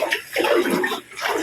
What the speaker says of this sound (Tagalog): Yung buga ng gripo malakas.